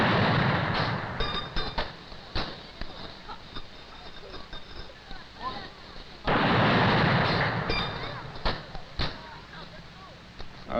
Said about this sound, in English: is receiving a 21-gun salute at the present time